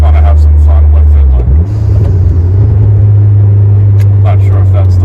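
A car engine drones loud and close, dipping briefly as the driver downshifts a manual gearbox, then settling into a steady, lower rumble that holds to the end.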